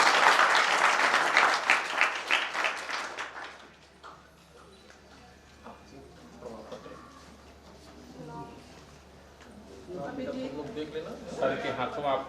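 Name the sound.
audience applause for prize winner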